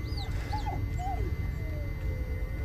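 A dog whimpers in the dark woods of the Blair Witch game, several short high whines and a drawn-out thin cry over a low, rumbling ambient drone.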